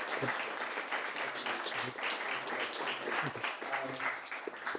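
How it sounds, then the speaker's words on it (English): Audience applause at a live climate-tech meetup interview, a dense, steady wash of clapping that holds evenly throughout the clip with no pauses. "a huge round of applause both to our speaker and to our host"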